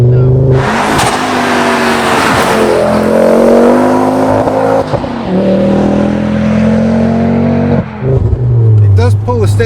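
Tuned 420 horsepower Ford Focus RS accelerating hard from inside the cabin, a loud rising engine roar climbing through gears with brief dips at shifts; people talk over it.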